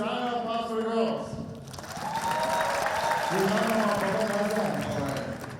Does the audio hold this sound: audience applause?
yes